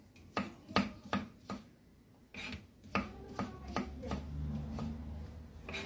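A knife cutting carrots for igado on a board, a run of sharp separate chops in an uneven rhythm, close and fairly quiet, with softer scraping near the end.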